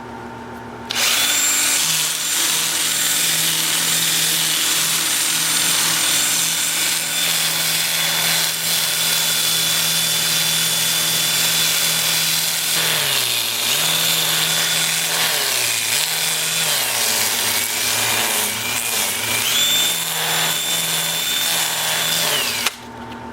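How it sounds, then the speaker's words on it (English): A power sander with an 80-grit sanding disc whirs and grinds steadily on a cork oak bowl on a lathe, close and loud, its pitch dipping now and then under load; no one speaks. "I'll switch to a 2-inch sanding disc at 80 grit, and I'll work up through 400"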